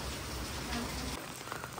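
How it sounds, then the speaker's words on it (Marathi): Continuous rain pours down around a village Marathi school, a steady, soft hiss of drops on surfaces that thins slightly toward the end, with faint voices in the background. "पाऊस इकडं कंटिन्यू पडतोय"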